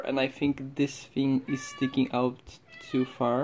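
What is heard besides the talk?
cat meowing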